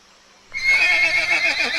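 A horse gives a single loud, close whinny after a brief quiet moment, and the neigh rings out for over a second.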